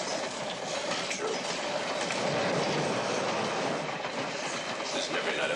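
A moving train rumbles steadily, its wheels clattering on the rails in a dense, continuous roar with faint metallic squeal, close and loud throughout.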